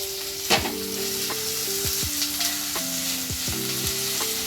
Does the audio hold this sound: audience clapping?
no